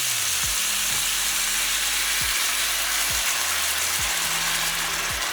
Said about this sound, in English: We kind of caramelizing the meat a little bit to a high heat till it's smelling delicious